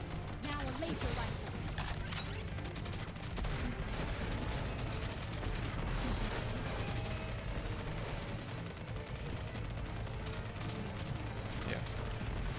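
Laser rifle shots in Contra Operation Galuga on PS5, a dense, continuous stream of rapid firing blended with game music and explosions, while a person talks over the action.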